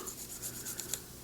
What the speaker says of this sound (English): I'm kind of rubbing stuff off